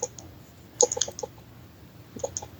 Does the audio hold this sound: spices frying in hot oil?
no